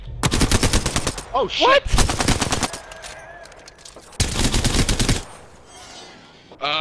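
Rapid bursts of video game gunfire aimed at a dragon in Apex Legends, loud and close, coming in dense automatic volleys with a pause between them. Voices exclaim between the bursts.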